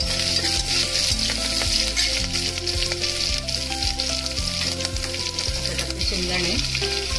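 Green chilies frying in hot oil for a khichdi, a dense, steady sizzle and crackle close by, with occasional stirring scrapes in the pan and no talking.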